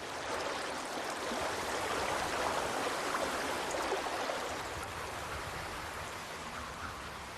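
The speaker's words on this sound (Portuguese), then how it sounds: "a água corrente abriu faixas na rocha e nas florestas de pinheiros" Rushing spring meltwater stream in Siberia cutting through rock and pine forest: a steady, dense, hissing roar of flowing water, moderately loud and unbroken throughout, with no voices.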